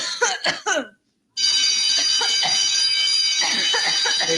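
Several coughs come in quick succession at the start, then a short silence, followed by a loud, sustained ringing alarm tone that carries on to the end, with further coughs underneath it.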